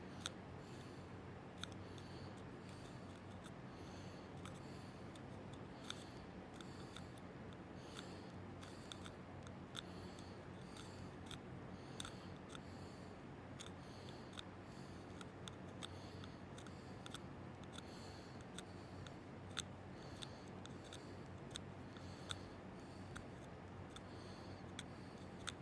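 A sharp double-bevel knife scrapes the tip of a handmade oboe reed in quick, repeated short strokes, giving a dry, faint, close scratching and ticking rhythm with no talking.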